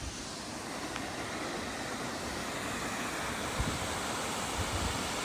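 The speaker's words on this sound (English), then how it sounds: "I genuinely don't think I've ever seen the waterfall rushing that much." A waterfall rushes at full force below a hiking trail's viewing platform, a loud, steady broadband roar of falling water that fills the air without a break.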